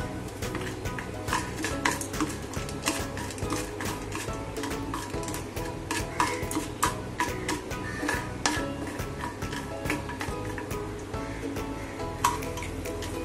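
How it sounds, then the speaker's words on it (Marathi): Peanuts and chiwda dal are roasted in ghee in a pan, with many light ticks, rattles and scrapes of stirring over a low steady background hum. "म्हणजे आपण हे शेंगदाणे थोडे भाजून घेऊया। थोड्या चिवड्याच्या डाळ्या आहेत, त्याही भाजून घेऊया।"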